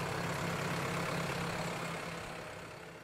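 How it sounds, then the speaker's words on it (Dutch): A farmer's tractor engine chugs along while driving through a brook in rural Limburg, a faint, fairly distant broadband drone that slowly fades away. "Hier kun je dus nog steeds de boer met zijn trekker door de beek zien rijden."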